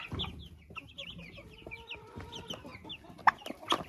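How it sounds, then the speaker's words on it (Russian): Chicks and a hen clucking and peeping while the chicks eat potatoes, a busy chatter of short close calls with a few sharper louder peeps. "Цыплята с удовольствием кушают"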